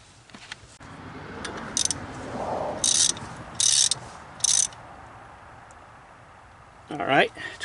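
Torque wrench tightening a bolt to spec on a 2014 Chrysler Town and Country wheel bearing, several short ratcheting bursts close by against a quiet garage background, with a voice at the end.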